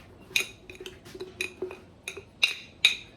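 Sharp metallic clinks and scrapes of a utensil against a bowl while water and flour are stirred into bread dough, irregular and close, quiet between the knocks.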